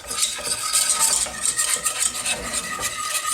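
A whisk or spoon scrapes steadily around a pot as milk is worked into a flour roux for mac and cheese, giving a rapid rhythmic swishing and metallic scraping, close and continuous with no talk.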